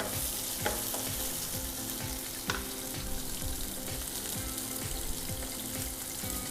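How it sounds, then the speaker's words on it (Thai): Garlic and chili sizzle hard in a hot pan for Thai basil minced pork, with a steady bright frying hiss and repeated rhythmic scrapes of a utensil stirring them through the oil. "เอากระเทียม นะคะแล้วก็ พริก ลงไปผัดก่อนนะคะ"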